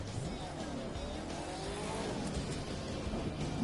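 A muscle car in The Crew 2 driven at full throttle with traction control off, its engine roaring steadily with a dense, continuous drone and tire noise, loud and close throughout with no talk.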